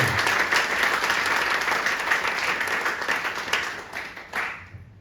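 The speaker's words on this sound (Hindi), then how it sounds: "एक बार जोरदार तालियां हो" Loud, dense audience applause at a leadership development program, continuous clapping from a large crowd that gradually thins and tails off near the end.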